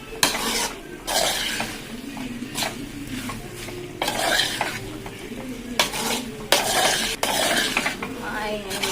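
Beef being stirred and roasted in a pan, with repeated scraping strokes over a steady sizzle and occasional clinks of the spoon against the metal, close and fairly loud.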